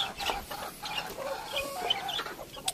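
Lovebirds in an aviary give a quick run of thin, high chirps and squawks, overlapping and moderately close, with a soft background hiss and no voices.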